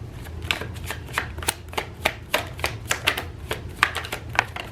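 Tarot cards being shuffled by hand, a rapid run of crisp riffling flicks and soft slaps in an uneven rhythm, close and fairly quiet with no talking.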